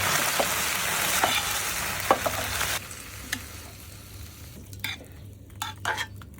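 Broccoli sizzles and fries in a thick garlic sauce in a pan, a steady crackle with occasional stirring clinks and scrapes that grow sparser toward the end.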